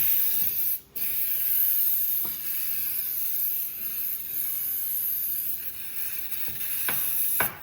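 Brake cleaner sprayed during work on a vehicle, a steady close hiss running almost without a break, with a brief pause near the start and a few faint knocks.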